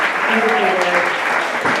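An evening arts-panel audience applauds the speakers, dense continuous clapping that fills the room evenly for the whole moment.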